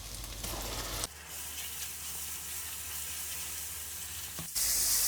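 Garlic ginger paste fries with golden onions in a pan for a restaurant-style dal makhni, giving a steady, close sizzle that holds throughout with a brief stir or clatter near the middle and end.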